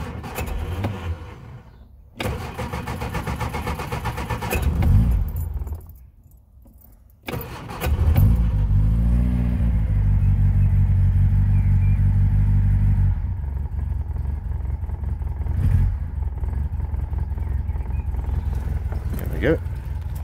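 A car engine cranks and catches, then idles and runs steadily up close, with a voice speaking briefly over it.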